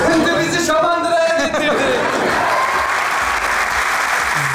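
Loud crowd applause fills a Turkish TV comedy sketch show promo, a dense, sustained roar of clapping with voices and laughter mixed in near the start before the ovation carries on alone.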